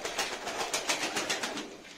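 Pigeons at a nest site built into a broken fireplace, with soft repeated fluttering and rustling pulses and faint cooing, moderately close, no talking.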